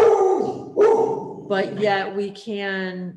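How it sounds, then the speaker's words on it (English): A dog barks several times in quick, uneven bursts, loud and close, while a person keeps talking beneath and between the barks. "sorry about my dog"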